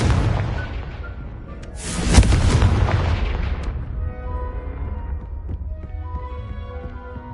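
A blasting-spell explosion in the Hogwarts Legacy video game lands with a deep boom and a bright crackling burst, then trails off into a fading rumble with scattered ringing debris-like tones.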